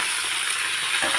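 Raw mango pieces go into a hot pan of sambar, setting off a steady, crackling sizzle close by, with a small clink and a brief surge of frying near the end.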